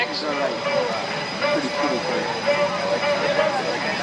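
A T6 Texan warbird lands tail high with flaps down and rolls out, its engine a steady distant drone under someone talking.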